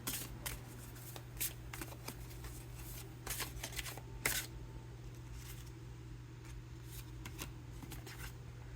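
A deck of dream cards is shuffled quietly, with a string of soft riffling and flicking bursts at irregular intervals over a faint steady hum, close and without talk.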